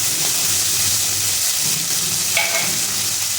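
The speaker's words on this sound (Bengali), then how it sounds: "এবার দিয়ে দেব আদা রসুন বাটা।" Ginger-garlic paste sizzles loudly as it fries with browned onions in a hot pan, a steady broadband hiss with light stirring scrapes throughout and a brief brighter spurt of sizzle partway through.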